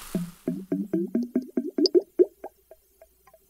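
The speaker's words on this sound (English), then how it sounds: "Whatever gas produced is bubbled through water and collected in a gas jar" Gas bubbles through water into a gas jar, making a quick series of close, wet glugging plops. The plops come in a steady rhythm, then slow and fade to a few scattered drips.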